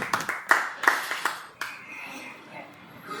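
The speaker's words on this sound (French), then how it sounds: "On peut applaudir." A few audience members clap in scattered, separate bursts that fade after about a second and a half, leaving quiet room noise at a member presentation event in Kinshasa.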